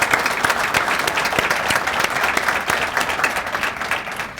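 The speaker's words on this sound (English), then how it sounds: "So if we could just give them a little bit of a round of applause." An audience at a police awards ceremony breaks into sustained applause, dense close clapping that holds at an even level throughout with no pause.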